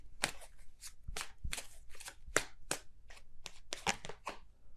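Tarot cards being shuffled by hand produce a close series of crisp, irregular riffles and snaps, quick flicks and taps spread across the whole stretch with no voices.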